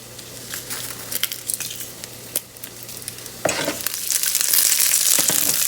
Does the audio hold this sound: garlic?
yes